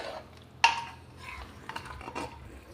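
Spices being stirred through pumpkin curry in a pot, with a sharp clink of spoon on metal followed by soft scraping and shuffling stirring sounds, close and fairly quiet, no talking.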